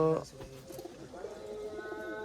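Fancy pet pigeons cooing at a home loft in Bolpur, a few soft, low coos close by, with people talking over them.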